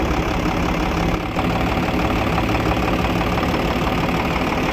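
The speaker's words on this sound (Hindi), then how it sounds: "अभी जो है इंजन की आवाज़ भी चेक करेंगे, इंजन का साउंड।" An Isuzu 6B diesel engine idles right after servicing, a loud, dense, steady rumble with a rapid knocking texture, briefly dipping near the start before carrying on evenly.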